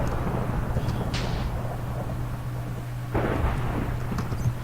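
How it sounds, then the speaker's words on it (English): Thunder from a lightning strike in the Tornado Survival video game: a continuous rumbling storm bed under steady rain-like noise, with a couple of sharper cracking bursts, fairly loud and without speech. "Oh, the lightning strikes."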